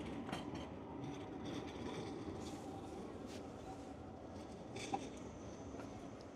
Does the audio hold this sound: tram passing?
yes